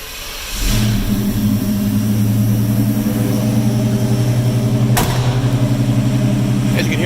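A 1987 Chevrolet K10 Silverado 4x4 shortbox pickup cranks and fires, then settles into a steady, loud, rumbling idle close by, with a brief sharp knock near the end.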